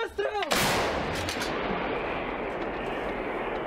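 A Russian howitzer fires on Ukrainian military positions: a single deafening close blast follows a brief shouted voice, then rolls into a long, heavy rumbling decay that lasts to the end.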